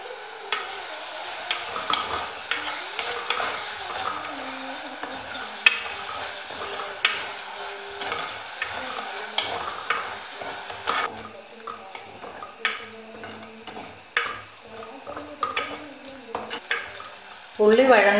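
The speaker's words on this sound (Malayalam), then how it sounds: "ഇഞ്ചി, വെളുത്തുള്ളി, പച്ചമുളക് ഇട്ട് വഴറ്റിയെടുക്കാം." Ginger, garlic and green chili sauté in a pan for a clam-coconut masala: a soft sizzle runs under repeated spatula scrapes and clinks against the pan, with no one talking.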